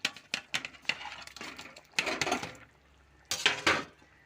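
Metal pots and utensils clatter and clank in irregular bursts, close by, while fried paneer is added to a curry, with short quiet gaps between clusters of knocks and scrapes.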